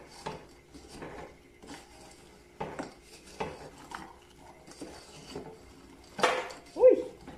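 A spoon stirs sugar caramelizing with fresh coconut in a pan, giving faint irregular scrapes and clinks, with a louder clatter near the end.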